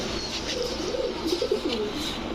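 Pigeons coo in soft, repeated warbling calls at a pigeon sale, close by, over a constant background hum and rustle.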